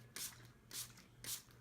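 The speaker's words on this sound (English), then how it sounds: "this is my DIY setting spray" Three quick, hissing bursts of a DIY makeup setting spray, evenly spaced and faint, with a low background hum and no talk.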